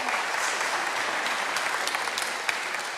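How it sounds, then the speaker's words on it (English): An audience claps steadily, a dense, even round of applause from a room full of people that holds at a constant level throughout. "do give them a round of applause"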